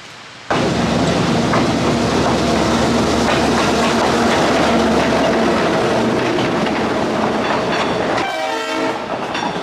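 Train running along the railway line through the town of Aguas Calientes near Machu Picchu, Peru, a loud continuous rumble and clatter of passing cars, with a horn blast near the end.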